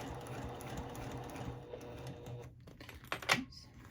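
A home sewing machine stitches through layers of vinyl, a steady close whir that pauses near the end, followed by a few sharp clicks and knocks as the work is turned.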